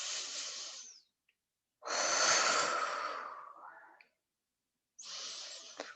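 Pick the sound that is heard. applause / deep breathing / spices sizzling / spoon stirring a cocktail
deep breathing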